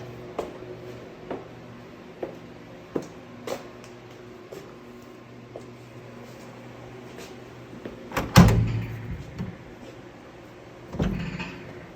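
Handling the door of a 1954 Pontiac Star Chief in a workshop: a series of small clicks and taps, then a louder rattling clunk of the door hardware and a final heavy thud, all close and without talk.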